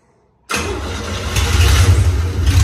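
A Chevrolet Caravan with a six-cylinder engine cranks and catches abruptly after a moment of silence, then settles into a loud, deep, rumbling idle that swells slightly as it revs, close to the microphone.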